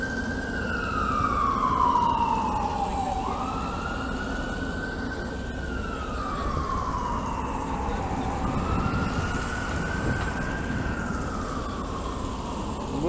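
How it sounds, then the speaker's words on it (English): Very loud emergency siren wailing on a busy Manhattan street, its tone sweeping down and up in slow repeated cycles over a constant roar of city traffic. "Very loud siren."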